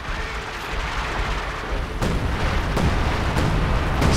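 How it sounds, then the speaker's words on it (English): Artillery shells landing in Company of Heroes 2, a World War II strategy battle, with a loud sustained rumble broken by several sharp booming impacts that grow heavier toward the end. "And artillery is landing down. More artillery"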